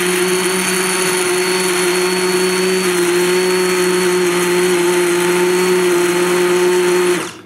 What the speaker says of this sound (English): I'm going to use the immersion tool now, or